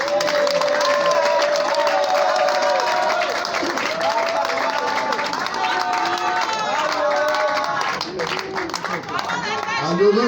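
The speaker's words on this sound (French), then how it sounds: "Nous applaudissons le couple Bizimungu." Guests at a civil wedding applaud the newly married Bizimungu couple, their clapping mixed with cheers, excited voices and crowd chatter, steady and lively throughout.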